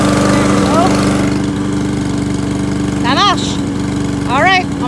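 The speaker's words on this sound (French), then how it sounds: "On va aller tourner la pelouse." A Troy-Bilt lawn mower engine drones steadily and close throughout, with a few short high chirps rising over the constant hum.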